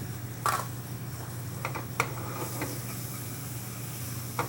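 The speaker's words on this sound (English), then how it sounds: "Look at that sizzle." A steady, faint sizzling hiss of walnuts caramelizing in maple syrup with cinnamon and nutmeg runs throughout, with a few soft clicks and taps scattered on top; no voices.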